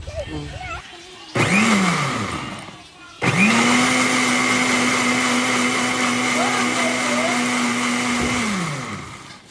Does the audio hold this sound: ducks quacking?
no